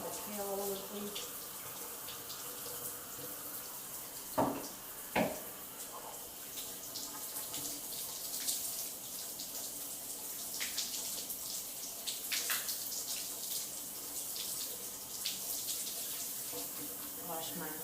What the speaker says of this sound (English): Wash all the soap off my hand.